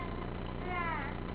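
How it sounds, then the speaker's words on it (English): Cat meowing faintly in a brief, rising-and-falling call against a muffled background. "The cat's sneaking by you."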